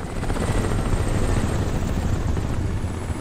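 A helicopter in the video game Crysis Remastered drones steadily at close range, its rotor chopping in a continuous low rumble for a few seconds.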